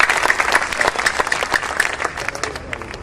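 An audience at a Hindi poetry recitation claps, with a rhythmic, fairly close run of applause and distinct sharp claps that gradually thin out and fade toward the end.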